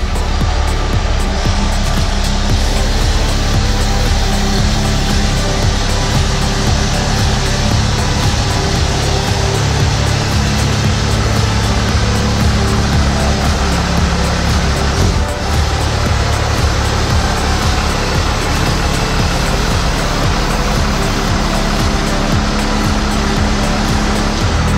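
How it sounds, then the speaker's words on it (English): A Cummins diesel truck's aftermarket exhaust roars loud and steady throughout, deep and rumbling with constant intensity, close by and uninterrupted. "if you're putting an exhaust on, you want to hear it like that"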